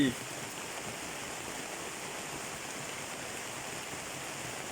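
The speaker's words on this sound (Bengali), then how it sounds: "বৃষ্টি" Steady rain in Bangladesh pours down as an even, continuous hiss at moderate distance, with no clear voices over it.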